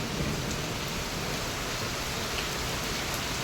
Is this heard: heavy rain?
yes